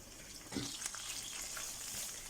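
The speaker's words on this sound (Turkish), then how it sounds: "Döndere döndere kızartıyorum." Horse mackerel fish fry in hot oil in a pan, a soft continuous sizzle and crackle heard fairly quietly, with a brief louder spatter as a piece is turned, no talking over it.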